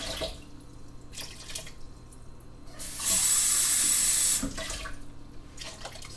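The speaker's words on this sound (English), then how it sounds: "we kind of rinse out the can, because we've got to do that for recycling anyway" Water runs from a kitchen tap into a sink while a can is rinsed out, a steady brighter rush swelling for about a second in the middle over a quieter trickling background.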